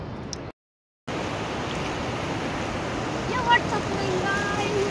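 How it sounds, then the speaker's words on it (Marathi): Sea waves wash onto the Diveagar beach as a steady, broad surf hiss mixed with wind, heard fairly close after a brief silent gap at the start. "समुद्र बीच ठिकाणी आलेलो आहे"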